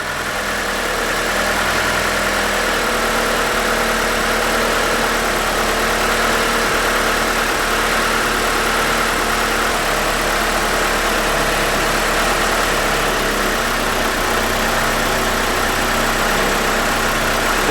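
A 1992 Mitsubishi Galant VR-4 idles slightly high, around 1,000 RPM, with a steady, even engine hum and low vibration that holds constant and close throughout.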